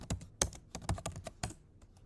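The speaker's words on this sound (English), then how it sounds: "all I'm doing is I'm typing in the option and pressing enter" Keys clacking on a computer keyboard while entering an option in WordPress, a run of uneven close taps with a few sharper strokes, alone with no talk.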